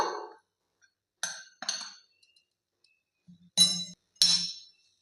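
A spoon stirs jalebi batter with baking powder in a bowl, giving a handful of separate bright clinks and scrapes with silent gaps between them.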